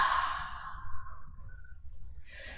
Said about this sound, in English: Nice, slow, complete exhale.